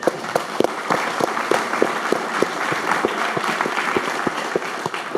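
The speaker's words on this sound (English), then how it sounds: "give yourselves a round of applause." An investor conference audience applauds: steady, moderately close clapping with distinct individual claps standing out, sustained evenly for over five seconds.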